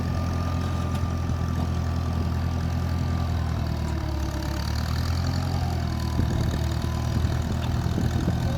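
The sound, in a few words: four-wheeler ATV engine starting and idling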